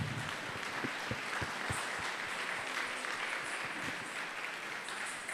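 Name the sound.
audience applause after a Kathak dance performance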